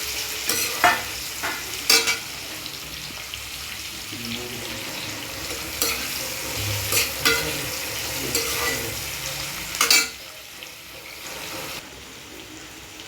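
Onion sautéing in a pan for lemon rice makes a soft background sizzle, punctuated by repeated loud scrapes and knocks of a spoon stirring, with brief murmurs of a voice in between.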